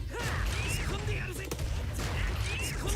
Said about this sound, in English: I'm gonna shoot up in the air